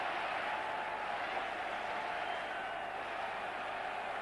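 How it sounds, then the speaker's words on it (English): A stadium crowd at Twickenham roars during a 1988 England versus Wales rugby match, a broad, sustained cheer heard from a distance, steady and even throughout. "A great cheer all around Twickenham"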